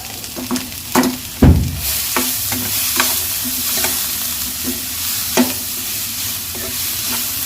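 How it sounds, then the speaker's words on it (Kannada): Onions frying with salt in a pan at home, a steady sizzle with repeated stirring scrapes and clinks of a spoon against the pan, close and fairly loud throughout. "ಇದ್ರ ಜೊತೆಗೆ ಉಪ್ಪು ಹಾಕೊಂಡೆ ಚೆನ್ನಾಗಿ ಫ್ರೈ ಆಗುತ್ತೆ ಇದ್ರ ಈರುಳ್ಳಿನೆಲ್ಲ"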